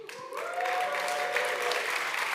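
A conference crowd breaks into applause and cheers, starting thin and quickly swelling into a loud, steady burst of clapping.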